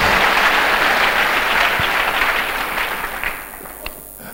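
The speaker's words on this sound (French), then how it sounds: "Acclamons le Seigneur Jésus" Church congregation applauding during a French and Swahili worship service, a dense, steady wash of many hands clapping that gradually thins and fades toward the end.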